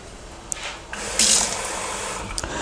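About a cup of water is poured into a pan of pork chop drippings for gravy, with a brief splashing rush that peaks midway through a steady background wash.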